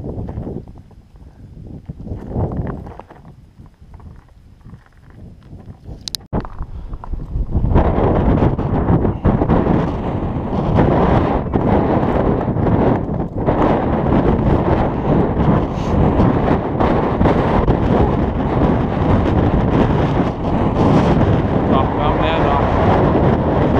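Strong wind roars steadily across the summit of Mount Monadnock in New Hampshire, buffeting the microphone in a loud continuous rush that builds after a quieter start, with a brief sharp click partway through.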